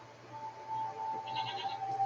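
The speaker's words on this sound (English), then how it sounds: "What are these strange goat-like creatures?" Goats bleating in the video game Season: A Letter to the Future, a soft animal call partway through over a quiet steady game ambience with a faint constant tone.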